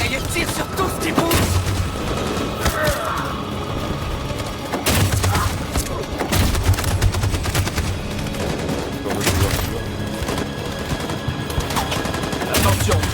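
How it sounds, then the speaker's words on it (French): Battle gunfire in the video game Detroit: Become Human, with a machine gun rattling in rapid bursts among scattered shots and dull booms, dense and continuous. "Cette saloperie de mitraillette tire sur tout ce qui bouge!"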